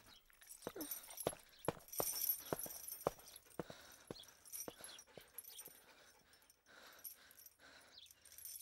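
A dog gives scattered short yips and whimpers, fairly faint and intermittent, with clicking sounds between the calls in a quiet indoor setting.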